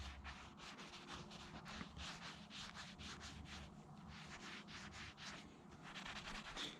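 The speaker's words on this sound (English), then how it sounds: "we're going to come over and rub the entire top of the piston" Steady, close rubbing and scouring on the top of an engine piston from a 273 V8, a continuous rhythmic scratchy abrasion that keeps going without pause and with no voices.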